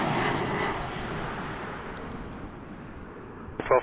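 Jazz Embraer 175 regional airliner arriving from Newark at Toronto Pearson, its engine roar broad and loud at first, then steadily fading over a few seconds, with a brief sharper noise at the very end.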